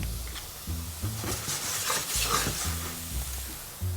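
Beef in a frying pan, deglazed with grape must, sizzling and being stirred, with spoon scrapes and clinks of cookware over a steady frying hiss, close and moderately loud, no talking.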